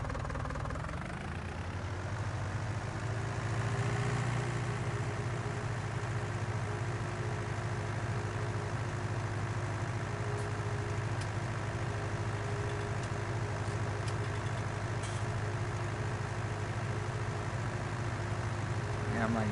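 A slow tractor engine drones steadily in a farming video game, a low continuous rumble at an even pitch throughout, loud and close, with a voice talking over it.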